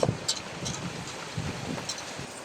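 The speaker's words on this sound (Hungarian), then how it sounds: "a szél sem kicsi" Strong wind buffets outdoors during cooking, a steady rushing roar with occasional gusty thumps against the microphone, loud and continuous.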